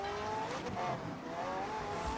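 A Bugatti Veyron driving in the racing game Forza Horizon 4, a steady loud engine drone with shifting tonal whine and tire noise, continuous and close without any talk.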